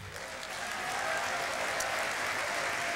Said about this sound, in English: Now clap your hands for Jesus.